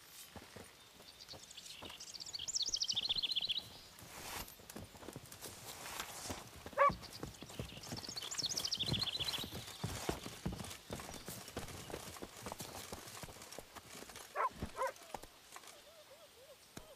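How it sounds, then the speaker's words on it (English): A horse gallops in The Witcher 3 through a swamp, giving faint, rhythmic hoofbeats under ambient game sound and music, with a few sharper sounds mixed in. "Run, Roach"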